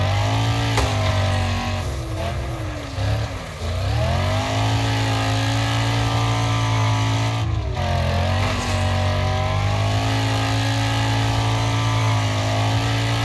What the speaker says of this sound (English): when you corner, the RPMs stay real high, and that's what helps it, you know, drive a lot better